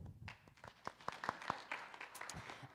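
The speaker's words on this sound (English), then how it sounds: "Give her another round of applause because I interrupted it." Scattered applause from a town hall audience for a councilmember at a Reno Police Department meeting, with a handful of distinct claps rising briefly and then thinning out, fairly faint and distant.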